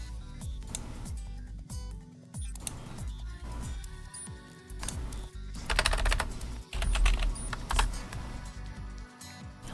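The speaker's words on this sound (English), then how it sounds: "I hope that my typing is just as loud as it seems like it is on my end." Fast, continuous typing on a computer keyboard, close and clear, with irregular bursts of key clicks and heavier thocks, a few louder clustered presses toward the middle, no talking over it.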